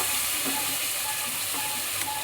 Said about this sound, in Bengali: এবার আমি এঁচোড়ের আলুটা দিয়ে দিচ্ছি ভাজার জন্য।